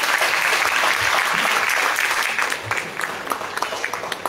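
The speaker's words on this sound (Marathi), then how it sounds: "पुन्हा एकदा सगळ्यांसाठी जोरदार टाळ्या झाल्या पाहिजे" An audience at a school children's music concert gives loud, sustained applause that gradually thins into scattered individual claps toward the end.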